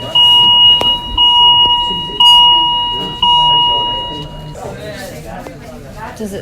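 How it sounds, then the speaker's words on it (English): An electronic alarm beeps in a repeating pattern of tones, loud and close, falling silent after a few seconds while faint noise continues. "Did that alarm go off before?"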